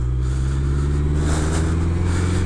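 A Suzuki Hayabusa motorcycle engine runs at a steady, strong drone with deep low harmonics and rising intensity, loud and close throughout the short stretch with no talking.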